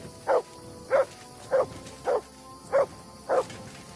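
Dog barking in the video game Kingdom Come Deliverance 2: six evenly spaced, sharp single barks about every half-second, close and clear over a quiet background.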